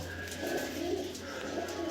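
Pigeons coo in a close, continuous low murmur, their soft throaty calls overlapping over a faint background hum.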